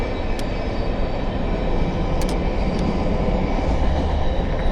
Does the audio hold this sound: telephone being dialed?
no